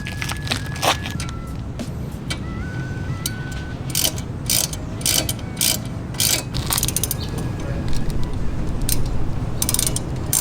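Brake caliper bolts (14 mm) being removed from a Toyota FRS during a brake upgrade: a ratchet wrench clicks and whirs in quick, irregular bursts, with metallic clanks of tools and parts close by throughout.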